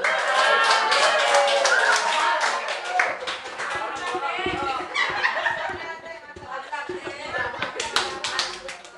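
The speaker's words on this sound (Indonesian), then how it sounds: "Kita beri aplaus sekali lagi kepada 2 peserta" An audience at a health counseling contest on smoking applauds two participants. Dense, loud clapping runs throughout with scattered chuckles and laughter mixed in.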